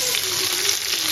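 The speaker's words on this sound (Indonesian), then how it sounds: "Agak ditumis sebentar ya." Chives stir-fry in a pan alongside fried tofu, giving a steady close sizzle with soft crackling throughout and no speech.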